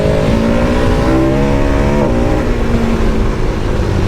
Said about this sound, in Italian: la moto viene su anche in terza solo accelerando